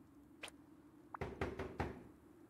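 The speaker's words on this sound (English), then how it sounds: "Knock, knock." Knocking on a door in the survival game Rust: a few firm, evenly spaced knocks, fairly close and quiet, with a faint tap just before them.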